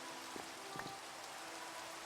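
Steady rain falls in the video game Minecraft Sky Factory 3 as an even, constant hiss with a few faint soft taps and no voices.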